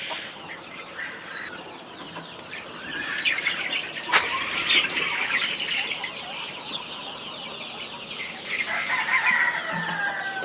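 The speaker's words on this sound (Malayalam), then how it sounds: "ഇതെല്ലാം കരിങ്കോഴി പൂവന്മാർ." Kadaknath black roosters on a small poultry farm give drawn-out crows amid clucking hens and occasional wing flaps, a busy, close flock sound with no talk.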